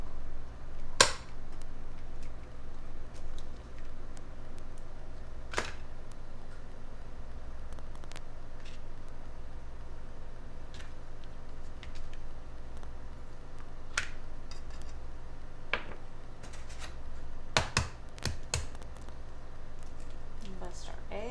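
A knife cuts pepper jack cheese against a cutting board in a home kitchen, producing sparse, sharp taps and clicks spaced several seconds apart in an otherwise quiet room.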